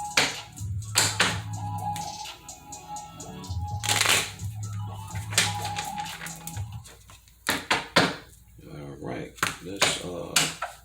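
Tarot cards are shuffled and tapped in quick bursts of riffling and light slaps, with a person talking intermittently between them.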